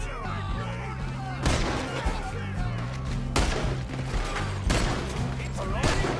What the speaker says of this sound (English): Shoot that man!